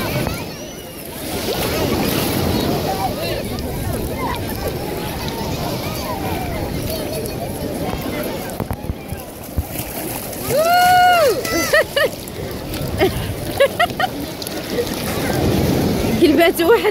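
Ocean waves wash and splash on a beach, with gusts of wind buffeting the microphone. People talk and shout close by over the surf throughout.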